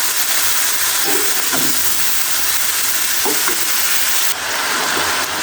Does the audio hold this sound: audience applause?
no